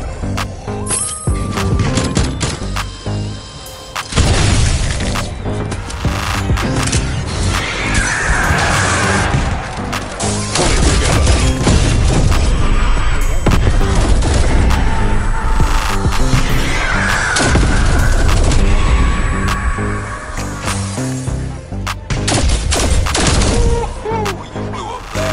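Wonder weapon fire and explosions in Cold War Zombies on the Mauer der Toten map, a loud, dense stretch of gunfire bursts and blasts that barely lets up.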